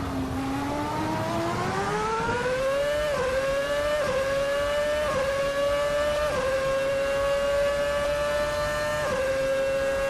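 A 2007 Formula One car engine in Assetto Corsa screams at high revs, loud and continuous, climbing steadily through the gears with brief dips at each upshift before holding a sustained howl.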